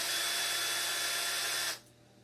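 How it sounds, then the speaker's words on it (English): A power drill bores a hole through a homemade nunchuck handle, whining loud and steady at close range for under two seconds before cutting off abruptly into quiet. "just keep drilling her out"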